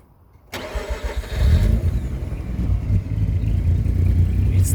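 A Mazda RX8 rotary engine, which had earlier been smoking badly, cranks and catches after a moment of silence, then settles into a loud, rough, close idle that holds steady to the end.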